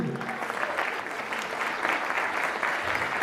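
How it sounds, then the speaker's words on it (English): An audience at a 2014 newspaper year-end party claps steadily for a dance act, a dense, continuous wash of many hands sustained for several seconds, with low music lingering briefly at the start. "keep the clap going"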